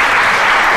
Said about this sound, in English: And already getting applause.